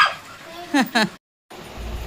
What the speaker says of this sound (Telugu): చిన్న కుక్క పిల్ల వచ్చిందని చెప్పి చార్లీ గడు ఎంత గోల్ చేస్తున్నాడా